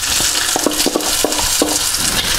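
Chopped onion frying in a pan with a steady sizzle, with a few light scrapes and taps as it is stirred.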